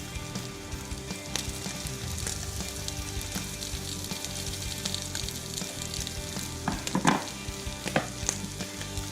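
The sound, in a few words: ingredients for duck egg fried rice frying in a hot pan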